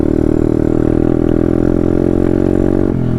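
A Taotao DB17 125 dirt bike with new rear suspension rides on gravel in third gear. Its engine drones steadily up close and loud, with rattling over the bumps and a brief drop in pitch near the end. Nobody speaks.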